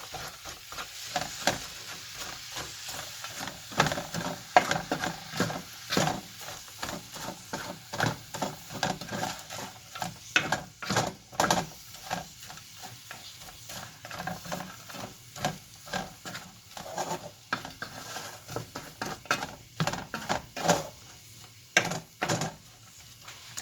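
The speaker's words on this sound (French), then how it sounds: "Et je viens gratter mes sucres en même temps. Je mélange bien." Onions and minced-meat meatballs being stirred and scraped in a tagine pot, making a busy run of close wooden scrapes and knocks over a soft sizzle that continues throughout without speech.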